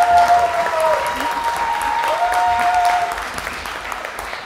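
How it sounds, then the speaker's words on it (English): An audience at a European debate final applauds steadily at moderate distance, a dense even patter of clapping with no talking over it. "I'd like to have a thundering applause for Simona Sarafinowska."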